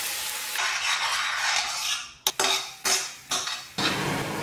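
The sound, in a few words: sauteing cumin seeds and ground masala in oil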